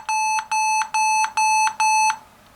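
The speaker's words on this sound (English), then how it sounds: "It will beep at us any moment now." A Lenovo Yoga 12.5 laptop emits five loud, evenly spaced electronic beeps, each a sustained pure tone lasting about a third of a second, before falling quiet.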